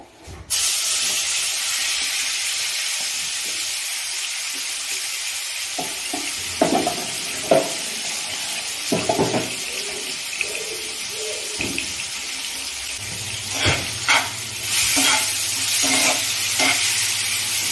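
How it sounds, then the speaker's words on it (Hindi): Chicken marinated in ginger-garlic paste, red chilli powder and salt hits hot oil and fries with a loud, steady sizzle, interrupted by stirring scrapes and clatters in a pan. "आपलं तेल तापलेलं आहे तर मी ते चिकन टाकते त्याच्यात"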